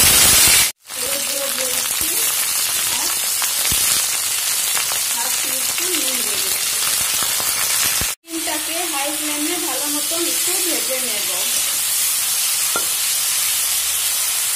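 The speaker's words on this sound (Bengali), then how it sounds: "এখন আমি সিম গুলোকে ছেড়ে দিচ্ছি।" Runner beans dropped into hot oil with black cumin, a loud continuous hissing fry that cuts out briefly twice, with faint indistinct voices murmuring beneath the sizzle.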